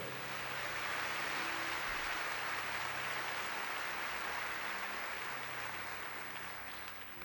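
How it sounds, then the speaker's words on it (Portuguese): Congregation applauding in a church service, a broad, steady roar of clapping that stays full and even for the whole stretch before easing slightly at the end. "aplauda forte ao Senhor"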